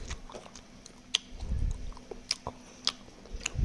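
Close, crunchy chewing of fries, with several sharp bites and soft mastication in an uneven rhythm, alone without talk.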